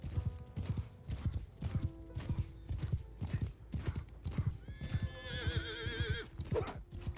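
Horse hooves clop in a steady galloping rhythm in the video game Mount & Blade II: Bannerlord, with a loud neigh rising over the hoofbeats near the end.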